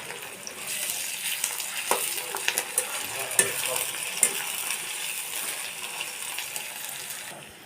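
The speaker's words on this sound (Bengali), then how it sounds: "ধুয়ে রাখা চিংড়ি মাছগুলো আমি ভালো করে পেঁয়াজের সাথে ভেজে নেব" Prawns and onions fry in a pan with a continuous crackling sizzle, broken by sharp metallic scrapes and taps of a stirring spoon, close and moderately loud.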